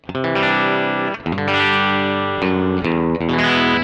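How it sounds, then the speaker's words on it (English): An electric guitar, a Hagstrom Deuce F with split humbucker, plays picked notes and chords with a bright, somewhat thin tone and mild overdrive, loud and sustained. "I mean, it does sound like a split humbucker."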